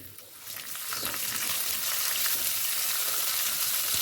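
Raisins sizzle and fry steadily in a pan while sheer khurma is being made, a dense, continuous crackle that holds close and loud for the whole stretch with no voices over it.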